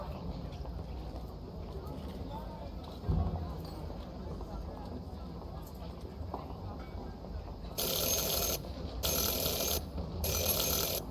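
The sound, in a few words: bell rung three times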